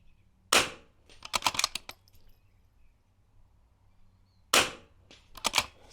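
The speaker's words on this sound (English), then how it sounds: "And the last target, and we do 2 shots here." Two bursts of .22 rifle fire at an NRL22 precision match target, each a sharp report followed by quick metallic clinks and rattles of the action, spaced a few seconds apart with no talking.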